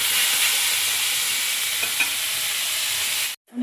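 Dal with bottle gourd, tempered with cumin and chili, sizzles loudly and steadily in the pan as it is stirred, a close, continuous frying hiss that cuts off abruptly at the end.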